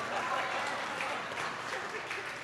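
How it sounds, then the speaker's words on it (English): Muffled applause from a crowd in an adjoining room during a democracy summit panel, a steady wash of clapping that sounds somewhat distant, continuing throughout. "even the other room is applauding"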